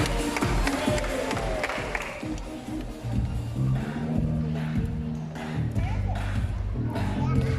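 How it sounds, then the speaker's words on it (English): An audience at a bird show claps and cheers for a green-winged macaw named Bandit, a steady crowd applause with scattered calls over a voice speaking. "A round of applause for our green wing macaw, Bandit"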